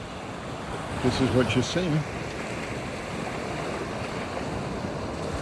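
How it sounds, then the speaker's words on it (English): Ocean waves wash steadily on a calm Florida beach around nine in the morning, a constant soft surf roar with some wind on the microphone, as someone briefly speaks near the start. "This is what it's like to walk on the beach here around 9 a.m. in the morning."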